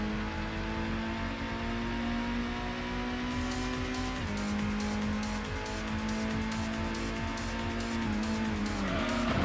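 Racing cars in the PlayStation game Gran Turismo drone steadily with engine tones that shift as gears change, with a continuous dense motor hum and a rising rev near the end, no speech.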